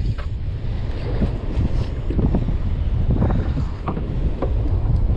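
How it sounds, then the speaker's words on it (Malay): Strong wind buffets the microphone on a fishing boat out at sea on a light jigging trip, a constant heavy rumbling roar with gusting swells and faint splashing of waves beneath, no voices. "Angin kuat geng."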